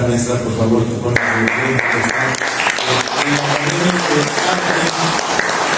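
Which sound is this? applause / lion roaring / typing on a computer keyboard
applause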